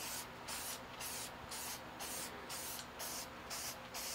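Sealer is sprayed in light coats onto a custom guitar body as a steady string of about eight short, even hissing bursts, close by and fairly soft.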